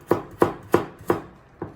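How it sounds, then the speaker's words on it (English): A knife chops a carrot into tiny pieces on a cutting board in a home kitchen: five sharp, evenly spaced thuds roughly a third of a second apart, close and clear with no talking. "I'm chopping a carrot into tiny pieces."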